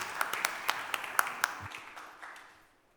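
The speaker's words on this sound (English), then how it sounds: "Can we give our young people a round of applause," Applause in city council chambers for visiting young people, a thin patter of scattered individual claps that peaks briefly and then tapers off to quiet within a few seconds.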